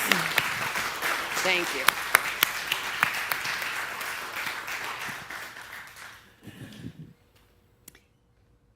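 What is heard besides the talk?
congregation applause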